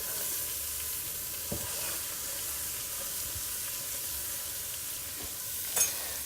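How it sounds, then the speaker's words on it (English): Steady sizzling of celery and carrot frying in a hot pan with sausage fat, a constant hiss with a few soft stirring knocks and a brief louder clatter near the end. "you just want to really saute them in the sausage and the fat"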